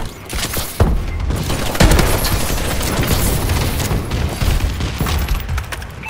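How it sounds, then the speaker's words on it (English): A friendly bombing run in a Call of Duty multiplayer match brings heavy thuds and booming impacts over dense, continuous battlefield gunfire, loud and sustained throughout. "Friendly bombing run clearing the way."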